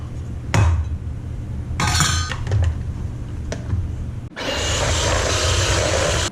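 Butternut squash cheesecake batter with squash puree, sugar, vanilla and spices being mixed in a bowl: a few sharp clinks and thunks, then a steady, loud whirring churn near the end, with no talking.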